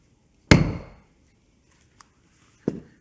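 A Heritage rivet set is struck with a hammer to set a tubular rivet through leather: one sharp loud knock, a couple of faint taps, then a second firm strike.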